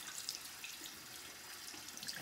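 Soapy hands scrubbed and rinsed under a running tap, giving a soft steady splashing stream with small trickles, close and quiet, without talking.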